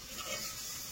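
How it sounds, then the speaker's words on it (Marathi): Fish pieces coated in masala frying outdoors in a parking area, a brief steady hiss of hot oil at moderate distance, with no talking. "मामा फ्राय करत आहे बघा"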